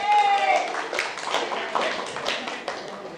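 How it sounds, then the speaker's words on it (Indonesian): A classroom of vocational high school students claps hands in a series of distinct bursts, moderately near, with some voices mixed in among the claps. "Tepuk tangan untuk kalian semua ya"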